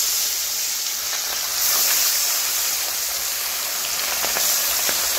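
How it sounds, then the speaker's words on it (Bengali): Pabda fish pieces placed in hot oil in a wok sizzle and crackle continuously, a bright hissing spatter with small pops that swells louder partway through, close by with no talking. "এবারে আমি এক এক করে কড়াই মাছ দিয়ে দিচ্ছি"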